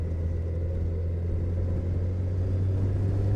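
Yamaha FJR 1300 motorcycle engine humming as it shifts down a gear, a steady low drone with constant rumble and wind noise, smooth with no sharp changes, and nobody speaking.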